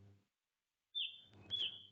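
A small bird chirps in a stock clip: two short, high, clear chirps close together after a moment of silence.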